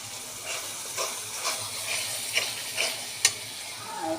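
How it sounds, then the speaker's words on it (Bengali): Spices with turmeric, chilli, ginger, garlic and onion sizzle and hiss steadily in a pan for a koi fish curry with greens and potato, a soft continuous fry broken by light stirring scrapes and a few sharp pops. "এখানে তো রান্নাঘরে মশলা কষাচ্ছি"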